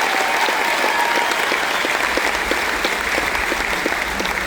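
Audience applause at the Pro Football Hall of Fame Gold Jacket Ceremony in Canton, Ohio: a large crowd's steady, dense clapping fills the hall evenly without a break and without speech.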